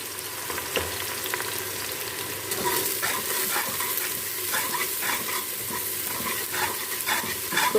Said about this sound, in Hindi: हमारा घी जो है वो अच्छे से हो गया है गरम। हम इसमें शामिल करेंगे अपनी प्याज।